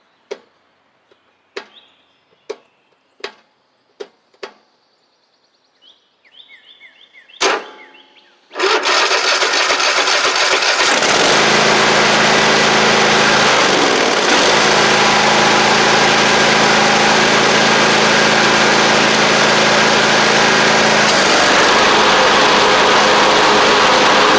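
Cub Cadet Ultima ZT1 zero-turn mower engine, with a worn clutch, cranking after a few sharp clicks and knocks, then catching and running at a steady, loud, close idle, alone without talk.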